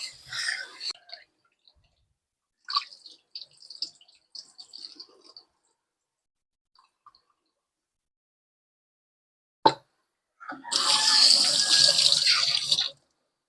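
Tap water runs steadily into a sink as pieces of chicken are rinsed, a loud broadband rush lasting a few seconds after scattered quiet handling noises and a sharp knock.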